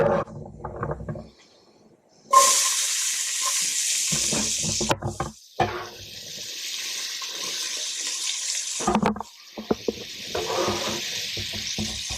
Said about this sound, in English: we'll let these onions sweat down